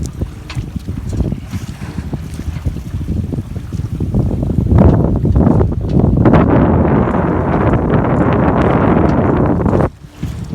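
Steady wind rushes around a small sailboat cruising slowly on open water, with a broad, continuous roar that swells louder midway and holds, faint fluttering of sail telltales mixed in, then briefly drops near the end; no talking.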